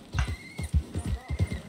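A horse in the video game Red Dead Redemption 2 trots with a steady clip-clop of hooves, close and fairly loud, with a faint thin tone running above the hoofbeats and no talking.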